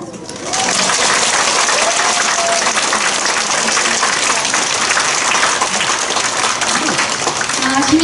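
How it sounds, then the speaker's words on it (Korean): After a quiet opening, an audience in a district community concert hall breaks into loud, sustained applause for a Pyongyang art troupe show, a dense even clatter of many hands lasting to the end. "이렇게 박수를 너무너무 잘 주시니까 얼마나 감사한지 모르겠습니다"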